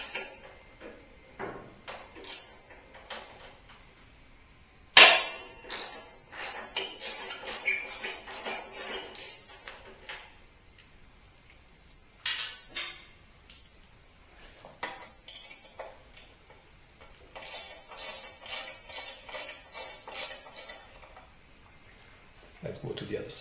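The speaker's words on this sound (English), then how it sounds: "For that we need to loosen 5 screws." Screws being loosened from the belly pan of a Ducati Multistrada 1260S, heard as repeated close metallic clicks and ratcheting ticks in irregular clusters, with some quiet handling noise between them.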